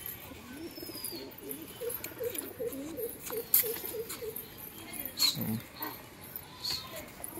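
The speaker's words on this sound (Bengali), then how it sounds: "মারফত ভাইয়ের পায়রাগুলো দেখুন আপনারা" Loft pigeons kept at a home for sale coo in a soft, repeated run of low notes in the middle of the stretch, against faint background noise and scattered small sounds.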